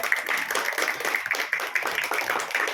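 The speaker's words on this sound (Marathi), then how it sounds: "या गटासाठी जिजाऊ गटाने टाळ्या वाजवायच्या" A group of primary school children at a quiz competition claps together in a steady, dense patter, close and continuous with no pauses.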